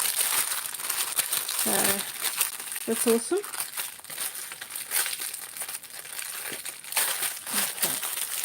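Paper from a diamond painting kit crinkles and rustles in close, uneven bursts, with a person talking briefly over the handling.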